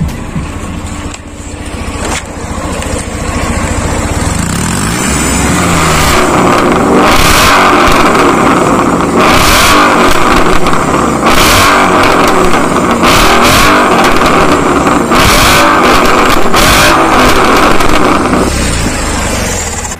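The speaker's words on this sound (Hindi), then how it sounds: "एग्जॉस्ट की साउंड आपको सुनाता हूँ एक बार सुनना" A car with a silencer burst from the inside revs hard, its loud raspy exhaust surging up and down in repeated throttle blips over about twenty seconds, close by, with no talking.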